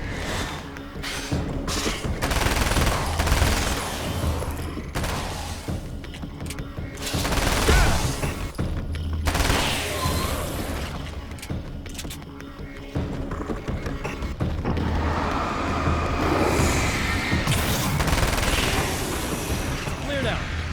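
An SMG rattles in Alan Wake: American Nightmare, loud bursts of automatic fire with booms and clatter running through the whole stretch, while a voice speaks over the action.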